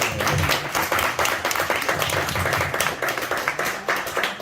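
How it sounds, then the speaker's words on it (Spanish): People at a Norma Comics book presentation for Son Goku Made in Spain clap for Manu. The applause is close and loud, with hand claps falling in a quick, roughly rhythmic pulse from start to finish. "vamos a dar un aplauso a Manu también"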